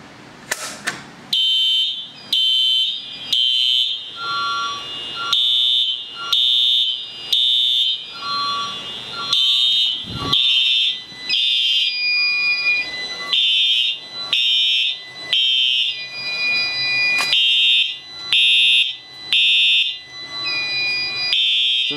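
A Fire-Lite MS-9600 fire alarm panel test sets off loud repeating electronic alert tones, pulsing in a regular on-off rhythm for the whole stretch with occasional steady tones.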